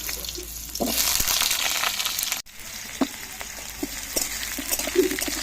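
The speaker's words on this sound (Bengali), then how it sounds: "কালো জিরে ফোড়ন হয়ে গেছে এবার দিয়ে দেবো আলুটা" Diced potatoes drop into hot oil tempered with nigella seeds and a dried red chilli, giving a steady close sizzle with a brief cut-off midway and scattered clinks of a utensil against the pan.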